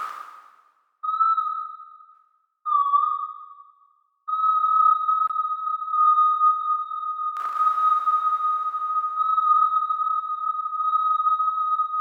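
Synthesized haunted forest ambience: a thin, pure sine-like tone wavers and sustains with a faint higher overtone, first in short broken notes, then a continuous eerie drone with a soft swell partway through, alone and without speech.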